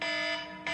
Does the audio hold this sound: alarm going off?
yes